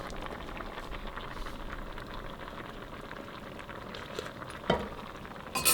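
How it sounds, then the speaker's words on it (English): Thai sour curry with shrimp simmers on the stove, a soft, steady bubbling and light sizzle with a couple of brief clinks near the end. "Just take about couple minutes for the shrimp to be all cooked."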